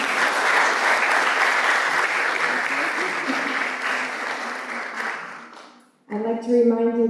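Lecture audience gives a sustained round of applause for a guest speaker, dense clapping that gradually thins and fades before a voice begins speaking.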